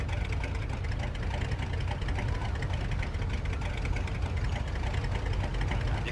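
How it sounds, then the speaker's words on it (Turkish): Classic car engine from the Mafia 2 video game, idling with a low, rough, rapid chugging that holds steady and close throughout, heard alone without voices. "Traktör motoru gibi tır tır tır tır tır tır tır tır tır tır"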